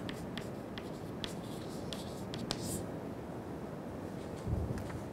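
Chalk or marker writing on a board during an aerospace lecture, a series of short faint scratchy strokes and taps spread across a constant background hiss.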